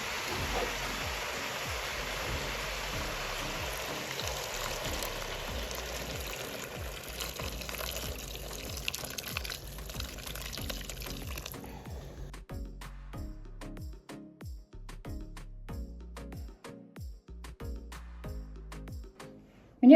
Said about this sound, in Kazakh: Енді суын құям.